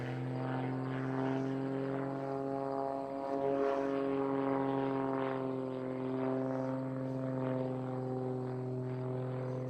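An aerobatic propeller airplane flies a full aileron roll during a competition flight at the US Nationals; its engine drones continuously at a steady, moderate distance, with a faint wavering buzz.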